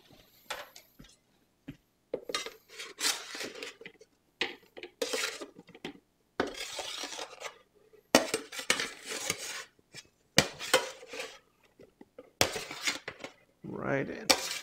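Roasted butternut squash is scooped into a food processor in a kitchen with bursts of scraping, clinking utensil and dish knocks separated by short pauses, close and fairly loud, while someone talks.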